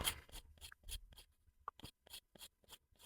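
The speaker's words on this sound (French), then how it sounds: "il ne faut pas appuyer hein, sur la lime, mais vraiment laisser la positionner simplement, poser simplement, sans appuyer" Light, short strokes of a nail file across acrygel nails, about a dozen brisk scratchy rasps in an even rhythm, close and fairly soft, with no voices.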